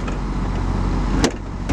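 A storage compartment door on an MCI luxury RV with a Detroit Diesel swings shut with a single solid thump near the end, over a steady low engine or generator rumble.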